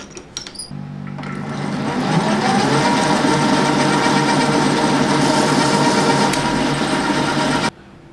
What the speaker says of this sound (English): Okay, let's cut some threads.